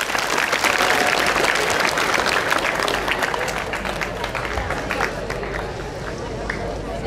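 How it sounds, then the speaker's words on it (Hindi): Children in an audience at a career counseling session break into dense, sustained applause that stays loud throughout and eases slightly toward the end, with a murmur of voices mixed in. "ये खुल के तालियां बजाओ"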